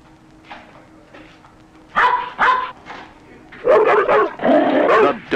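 Doberman pinschers bark loudly in several sharp bursts, mixed with higher whimpers and yips, over a quieter low background hum; the barks cluster in two busy groups close to the listener.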